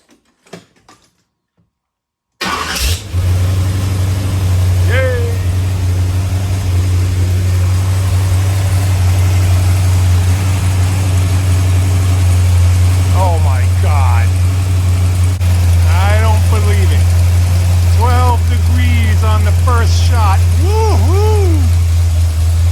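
A small block Chevy engine with a newly installed distributor cranks and fires after a short quiet stretch, then settles into a loud, steady, close idle, with a few faint voices and clanks over the engine.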